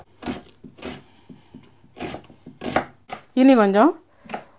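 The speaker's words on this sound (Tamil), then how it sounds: "வெள்ளை வெங்காயத்தை பொடியாக வெட்டிக்கணும்." A knife finely chopping white onion on a board, with sharp, evenly spaced strokes close by, under a person talking, and a brief rising tonal sound near the end.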